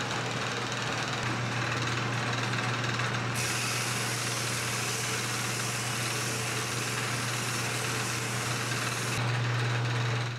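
Woodturning lathe spinning at its top speed of 2000 RPM, a steady loud motor whine and broadband rush that holds constant for the whole stretch, with no voices.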